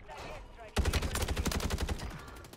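Rapid automatic gunfire in Call of Duty Warzone on Rebirth Island erupts abruptly after a quiet moment, a fast, loud, evenly spaced burst of shots that keeps going to the end.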